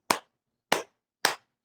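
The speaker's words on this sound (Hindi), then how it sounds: "ताली बजा के स्वागत कर दिया जाए।" Hands clap three times to welcome someone at an online yoga session, each clap a crisp, close slap, evenly spaced about half a second apart against silence.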